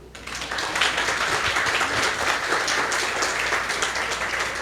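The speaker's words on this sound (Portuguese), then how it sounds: "Podemos aplaudir." An audience applauds a businessman and Febracis director being introduced as the evening's speaker, a steady dense clapping that holds at full strength for several seconds with no talk.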